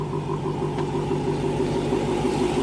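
A supercharged Hemi V8 in a 2016 Dodge Challenger SRT Hellcat idling with a deep, steady rumble, close by and continuous, without clear revving peaks or voices.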